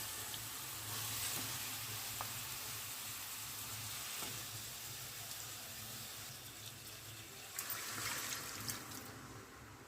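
Fish and water added to a pan of fried onion and green chili for a fish curry, giving a steady loud sizzle and hiss with faint trickling and a brief louder burst near the end; no one speaks.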